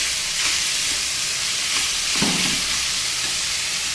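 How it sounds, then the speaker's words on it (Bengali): Boiled banana stem (kolar thor) stirred in a frying pan gives a steady, close sizzle throughout, with a brief scrape of the spoon about halfway through. "এবার এটাকে ভালো করে নেড়ে চেড়ে মিশিয়ে দেবো।"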